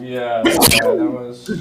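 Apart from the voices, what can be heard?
sneeze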